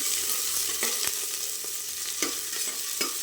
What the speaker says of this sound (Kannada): ನಾನು ಈರುಳ್ಳಿ ಚೆನ್ನಾಗಿ ಫ್ರೈ ಆಗಬೇಕು